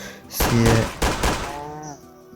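A pistol from a firearms mod fires in a video game, a quick burst of several sharp loud shots in succession followed by a fading metallic ring, with faint background game sounds and no talking.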